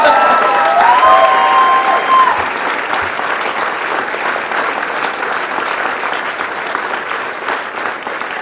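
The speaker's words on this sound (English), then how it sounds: "I'll let you clap." A crowd applauds at Joe Dorman's 2014 election concession speech, loud sustained clapping that tapers slightly over several seconds, with a brief voice near the start.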